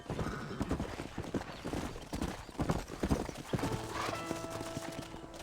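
Horse hooves clip-clop in steady rhythm in the video game Red Dead Redemption, near and continuous, with a whinny near the end over a low ambient bed.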